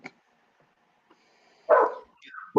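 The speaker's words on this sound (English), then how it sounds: "the dogs keep barking at it" Dogs barking at something nearby on a mild day, a few faint yips early on, then a loud close bark, a whining yelp, and another sharp bark at the end.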